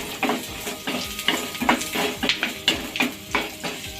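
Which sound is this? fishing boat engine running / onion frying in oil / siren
onion frying in oil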